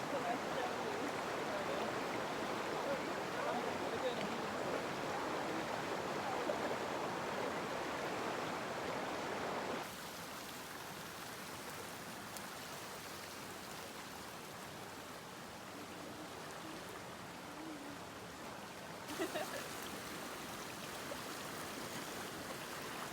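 Steady, broad rush of falling water from a waterfall, continuous and fairly loud throughout, with a sudden drop in level partway through and a brief bump near the end.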